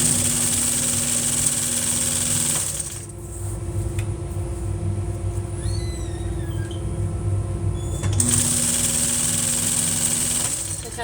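A sewing machine runs fast while stitching velvet upholstery for a chair, a steady close motor whir that drops away for several seconds and then starts up again, with faint high squeaks during the pause.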